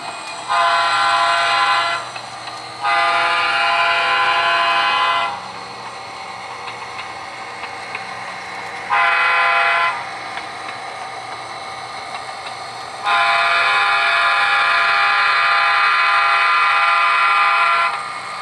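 A train horn blasts in long, loud sustained tones, four times with gaps, over a low steady rumble of a passing train.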